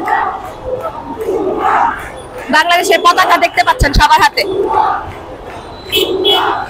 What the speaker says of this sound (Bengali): শুনতে পাচ্ছেন, তারা এখনো স্লোগানে মুখরিত।